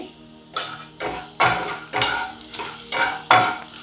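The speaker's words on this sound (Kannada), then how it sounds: "ಮೆಣಸು ಅರ್ಧಂಶ ಫ್ರೈ ಆದಮೇಲೆ ಇದಕ್ಕೆ ಸ್ವಲ್ಪ ಸಾಸಿವೆನ ಹಾಕ್ಕೊಳ್ತಾ ಇದ್ದೀನಿ" Chillies and mustard seeds fry in oil in a pan, with a steady sizzle broken by about seven rhythmic scraping stirs of a spoon against the pan, each a sharp, close swish.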